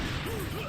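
Rocket impact in a competitive arena shooter duel, a short crashing smack with swishing weapon noise, loud and clipped in the game mix.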